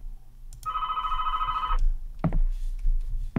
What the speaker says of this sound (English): Phone's gonna ring.